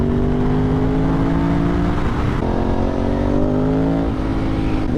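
A Ducati 996 motorcycle engine revs loudly and up close on a road trip toward Saint-Tropez. Its steady droning roar rises in pitch through several climbs without a pause.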